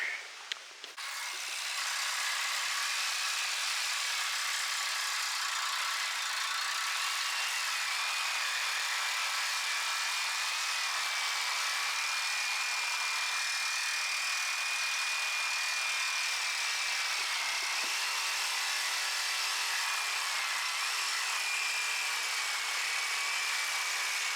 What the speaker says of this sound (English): Chris is just going to get the sawzall and cut those rusty old bolts off of there